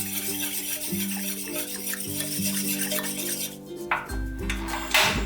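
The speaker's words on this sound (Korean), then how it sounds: "냄비에 물을 넣고 찹쌀가루를 넣어 잘 섞어주세요." Glutinous rice flour is stirred into water in a pot to make rice paste for chonggak kimchi. Close, continuous scraping and light clinking of a utensil against the pot, with a soft tonal background underneath.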